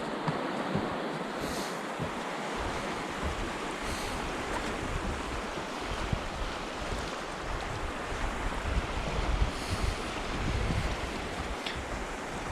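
Castle River rushes along, a dense, steady roar of flowing water, broadband and continuous, with wind buffeting the microphone now and then and no voices.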